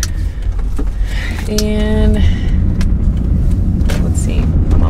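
A car driving on a road, with a steady, loud low rumble of engine and road noise filling the cabin throughout, while a person speaks briefly over it.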